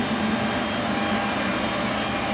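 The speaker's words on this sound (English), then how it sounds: "That's just generators to keep it cool." Generators run steadily at a parked airplane to keep it cool, a loud, unbroken broadband roar with a low hum and no pauses.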